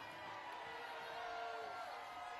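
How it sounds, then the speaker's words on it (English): A crowd cheers and whoops along a St. Patrick's Day parade route in Savannah, greeting Georgia Bulldogs marchers with a steady, dense roar of voices and shouts that holds at the same level throughout. "And you can hear the crowd is going wild."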